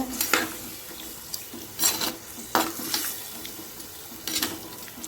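Goat liver pepper fry with chili powder and a splash of water is stirred in a pan, with a series of quiet scraping strokes over a soft, low sizzle.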